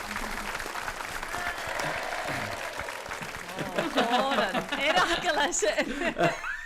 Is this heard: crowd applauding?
yes